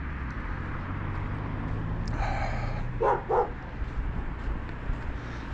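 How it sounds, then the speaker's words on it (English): A dog barks at people walking past while someone walks outdoors in late winter. There are two or three quick, mid-distance barks over steady outdoor background noise, with no talking. "Barks every time, except for a couple times."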